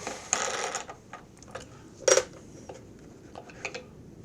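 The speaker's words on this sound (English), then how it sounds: "Let's get this air filter off of here, see what it looks like." Plastic clicks and rattles as the air filter cover is unclipped and the filter pulled from a vintage John Deere STX30 riding mower, a few scattered close knocks and snaps with quiet gaps between.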